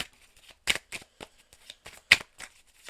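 Tarot cards shuffled and drawn close up, a string of sharp papery flicks and slaps spaced irregularly in a quiet room.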